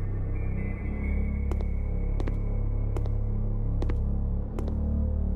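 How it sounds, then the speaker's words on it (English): Dark ambient background music from the horror game Prison Island, like the Amnesia soundtrack: a steady low droning hum with sparse, faint metallic pings scattered over it, no voices. "This sounds like this is from the Amnesia soundtrack."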